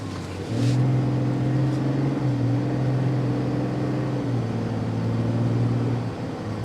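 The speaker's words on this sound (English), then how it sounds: "This is the Duramax." A 2024 Chevrolet Silverado LTZ with the Duramax engine idling, a loud, steady low hum with a slight dip in pitch midway, heard close and alone for several seconds.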